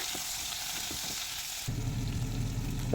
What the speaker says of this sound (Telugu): ఎర్రగడ్డలు బాగా వేయించుకొని బ్రౌన్ కలర్ వచ్చేదాకా